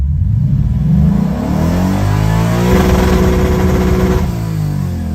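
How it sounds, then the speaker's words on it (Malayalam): A car engine held against its factory rev limiter gives a loud, close, sustained buzzing roar that stutters and bounces rapidly at the cutoff, steady throughout with no voices. "അതാണ് റെവ് ലിമിറ്റിങ്"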